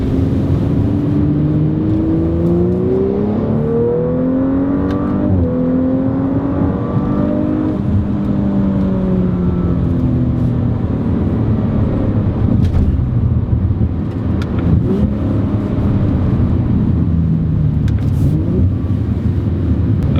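An Audi RS5 with a high-speed automatic gearbox revs hard, its engine note climbing in pitch through repeated upshifts and then settling into a steady, loud drone. The sound is close and clear, with no one talking.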